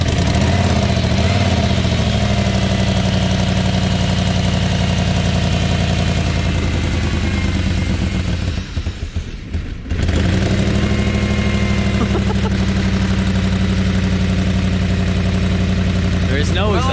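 A loud, rough engine of a broken German luxury car with its exhaust missing idles steadily up close, with a raw, unmuffled rumble that dips briefly before settling back.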